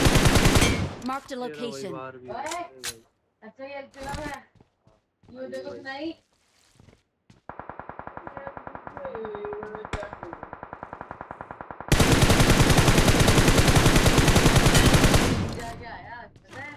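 Gunfire in the BGMI mobile battle royale, long rapid automatic bursts, loud and close, following a stretch of excited voices talking over scattered shots and quiet gaps.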